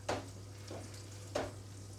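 Four eggs frying slowly as an omelette, with two soft stirring or spreading scrapes against a low steady sizzle and hum, close and quiet, no talk.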